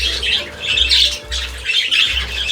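Shrill squawks and chirps come from many pet budgies kept together, a loud and continuous chatter close by over a low steady hum.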